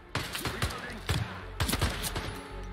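Rapid bursts of gunfire from guards in the Hitman 3 video game, a dense crackling volley of shots repeating in clusters throughout, loud and close.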